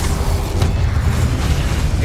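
An Incendio fire spell in Hogwarts Legacy lets out a loud, dense rumbling blast of roaring low-end fire and whooshing texture that continues through the moment.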